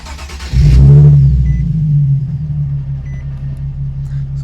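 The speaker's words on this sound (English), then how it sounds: "So now when we start it up again, we should have a good idle of around 600 to 700 RPM." A Nissan 370Z engine cranks and fires with a loud burst, revs briefly, then settles into a steady low idle of around 600 to 700 RPM after throttle body and MAF sensor cleaning.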